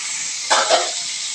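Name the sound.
frying bottle gourd greens in oil with dried chillies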